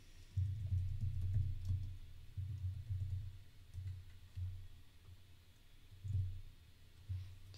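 Quiet typing on a computer keyboard while setting an operating system name in VirtualBox 7, soft irregular key clicks in bursts with short pauses.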